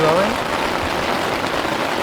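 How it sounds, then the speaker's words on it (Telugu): Heavy rain pounds a camping tent at night, making a dense, steady hiss that lasts from start to end with no letup, and a faint voice briefly at the very beginning. "భయంకరంగా వర్షం అయితే స్టార్ట్ అయిపోయిందండి"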